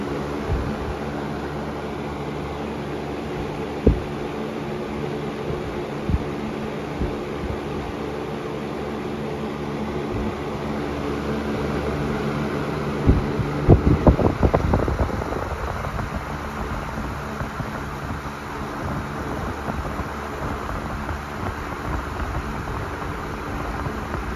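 A Patton rotating grill box fan runs on high with a steady, broad whooshing drone, close by, and a cluster of louder buffeting gusts partway through.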